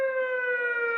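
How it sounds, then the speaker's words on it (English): Steady emergency alarm siren of the ambulance or police type, a loud sustained harmonic tone holding one pitch without a break, heard alone. "this is also the ambulance,"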